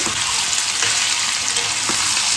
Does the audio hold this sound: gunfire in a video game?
no